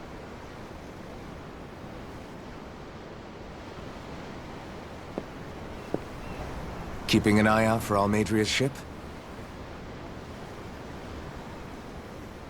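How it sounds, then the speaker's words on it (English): Ocean waves in Tales of Arise, a steady soft wash of surf and wind noise that runs throughout, with a short stretch of speech partway through. "I'm looking at the ocean. The ocean? Yeah. The waves."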